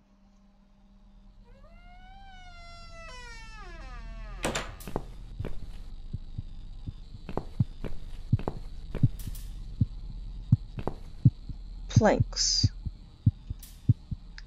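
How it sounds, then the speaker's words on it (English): A heartbeat in The Cat Lady video game throbs in a steady, quickening rhythm of low thumps that gradually speed up, with brief eerie tones and a short spoken word over it. "There's a heartbeat that's just ramping up."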